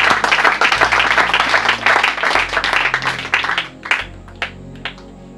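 A church congregation at an evening gospel conference in Kananga bursts into dense, loud applause that fades out into a few last scattered claps.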